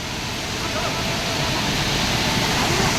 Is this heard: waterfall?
yes